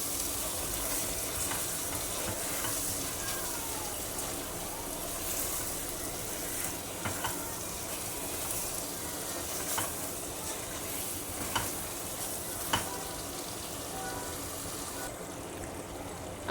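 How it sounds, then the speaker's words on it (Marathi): Chicken leg pieces are turned and mixed through a frying masala in a pan, giving an even, close sizzle with occasional wet scraping and light knocks of the spoon, steady throughout and free of speech. "ह्यांना व्यवस्थित असं मिक्स करून घ्यायचं."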